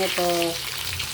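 Oil sizzles and crackles steadily as tilapia fries in a pan, with a brief spoken word and a faint tonal beep near the start.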